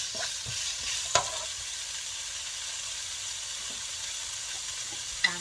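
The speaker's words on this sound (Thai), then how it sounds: "เดี๋ยวจะรอให้น้ำมันเขาออกจากหมูสามชั้นกับปีเชียงนะคะ" Pork belly and Chinese sausage fry in a pan as the fat renders out, a steady close sizzle and hiss with a couple of brief clicks from stirring.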